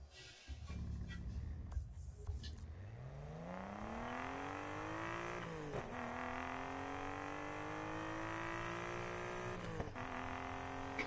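Car engine in the racing game Need for Speed Payback revving up with a rising whine, shifting gears twice with brief dips, then holding a loud steady high-rev drone.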